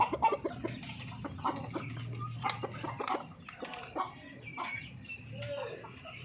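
Breeder hen on a Filipino poultry farm, clucking in short soft bursts at moderate distance, with other birds chirping faintly and a person talking over parts of it.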